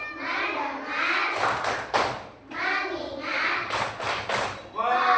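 Children in a classroom clap in short rhythmic bursts as part of a focus chant, the claps cutting in between chanted voices and a teacher's speech.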